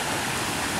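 Creek water flowing at a crossing on a mountain bike trail above Colorado Springs, a steady, close, loud broadband rush that fills the brief moment without any talking.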